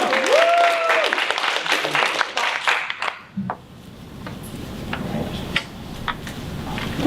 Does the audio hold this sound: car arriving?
no